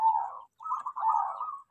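A zebra dove (perkutut) coos close by in a short phrase: a soft held note, a brief pause, then a longer rolling coo, clear against a quiet background.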